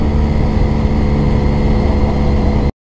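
A motorcycle engine running steadily at low revs after an upshift, ridden quietly on a road; a continuous, even, close drone with no voices, cutting off abruptly near the end.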